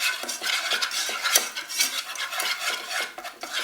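A butter and flour roux is stirred in a pan with a steady, close scraping and swishing in repeated strokes, over a faint sizzle and with no talking.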